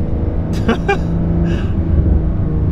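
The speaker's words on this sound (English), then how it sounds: "Quite some military vehicles coming down here." Military vehicles driving past on a narrow road, a steady low engine rumble heard from inside a moving car, with a voice speaking briefly over it.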